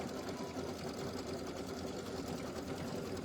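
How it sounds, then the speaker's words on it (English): A sewing machine stitches a decorative pattern at home, its steady, dense mechanical whirr running continuously and fairly loud throughout, with no voices over it. "So we are going to do our decorative stitch here."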